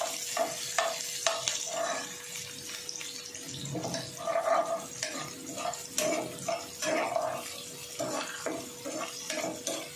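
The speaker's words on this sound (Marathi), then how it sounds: "मिरची आणि कांदा। अगोदर हे थोडं परतून घ्यायचं" Chopped green chili and onion fry in oil in a pan over raised heat, a steady close sizzle with rhythmic stirring scrapes throughout.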